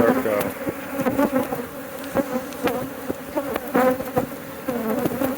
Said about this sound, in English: You have a beehive colony in your neighborhood.